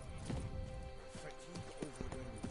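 Roach, Geralt's horse in The Witcher 3: Blood and Wine, galloping along in rhythmic hoofbeats close by, with game music and someone talking over the top.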